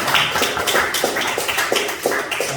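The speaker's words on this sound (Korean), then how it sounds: "하나님께 영광의 박수 한번 더 드리겠습니다" A church congregation claps together in a steady rhythmic beat, the dense, loud clapping filling the room without pause.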